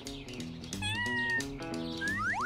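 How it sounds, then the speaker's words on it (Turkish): A cat meows several times in quick succession, close and loud, the calls rising and bending in pitch, with a busy background of other sound beneath and no speech. "Ne güzel bir kedicik."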